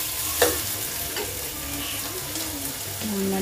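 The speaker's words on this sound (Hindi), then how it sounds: "मैंने कढ़ाई, मेरा तेल गरम हो रखा था। अब डालूँगी प्याज। डल गया मेरे प्याज।" Onions sizzling in hot oil in a kadai for kadai chicken, a loud, continuous frying hiss close up, with a spoon knock near the start and soft stirring scrapes, no one speaking.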